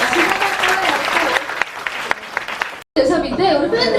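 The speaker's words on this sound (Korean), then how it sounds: "여러분 박수 한번 주세요." Fans at a talk concert applaud in a hall, a crowd clapping loudly with sharp individual claps standing out, then a brief cut of silence before a voice starts speaking.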